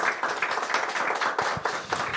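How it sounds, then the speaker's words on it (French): A parish gathering's audience claps after a testimony, a moderate, fairly even patter of many hands at middling loudness, with slight swells and a few sharper individual claps standing out. "Je crois qu'on peut vous applaudir."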